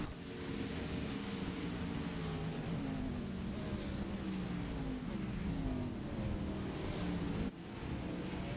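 Race car engines in a Toyota Supra during a sim racing video game at Montreal, a steady dense engine drone with shifting pitch running throughout, loud and continuous with a brief dip near the end.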